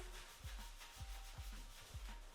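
Shampoo lather being worked into curly hair during a second cleanse, rhythmic squishy rubbing strokes about every half second, close and steady with no talking.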